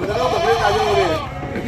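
Goats at a livestock sale bleat in a wavering, drawn-out call lasting over a second, loud and close, with a crowd murmuring faintly behind.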